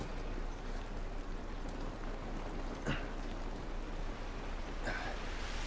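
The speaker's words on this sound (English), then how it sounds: "It's raining." Soft, steady hiss of rain falling in the video game The Last of Us Remastered, faint and even, with a couple of brief louder spatters.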